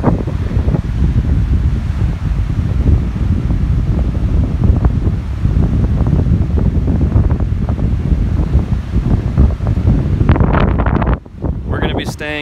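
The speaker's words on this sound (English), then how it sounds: "it's really windy out here right now" Strong wind roars and buffets the microphone continuously on the Lake Superior shore, with a low rumble of big waves underneath, easing briefly near the end.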